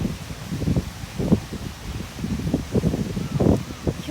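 Strong gusts from a typhoon buffet a lakeside campsite at Lake Ogawara, arriving as uneven low rumbling bursts of wind noise, close and moderately loud, with no talking.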